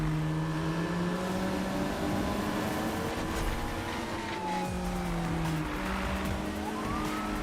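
Police car sirens wailing during a chase in the racing game Need for Speed (2015), rising and falling tones over a constant loud engine roar and road noise, sustained throughout.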